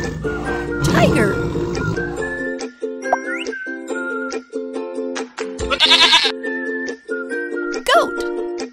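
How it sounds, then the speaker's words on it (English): A goat bleating in a kids' animal app game, a short cartoonish bleat mixed over a looping, tinkly game melody with whistle-like tones. "Goat."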